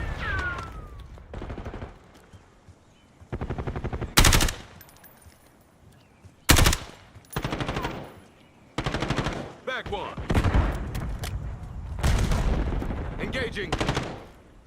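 Rapid bursts of automatic gunfire from a hostile shooter in a video game, loud and close, arriving in repeated clusters with sharp single shots between them and game noise in the gaps.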